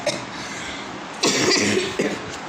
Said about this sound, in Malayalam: എനിക്ക് ഈയിടെയായിട്ട് ഭയങ്കര ചുമയാണ് കേട്ടോ